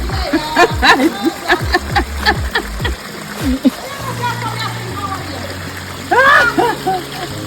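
Fountain water splashes and patters steadily nearby in Bath, with bursts of spraying, while voices talk over it.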